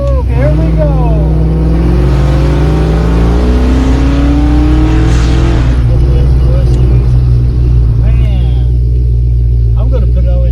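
A Ford Fox body Mustang with aftermarket LED headlights pulls away on a drive, its engine droning loud and steady with rising revs, while someone talks and cheers excitedly over the motor.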